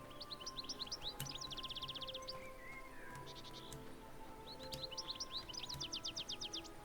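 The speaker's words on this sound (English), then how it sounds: "There are also birds in the sky." Birds in the video game Corsairs Legacy chirp in quick repeated trills over a soft outdoor ambience, in two bursts separated by a quieter stretch, fairly faint and without voices.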